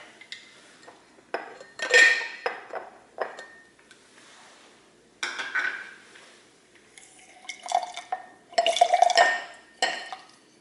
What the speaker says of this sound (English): We're gonna cut up this lime. And get the juice from this lime.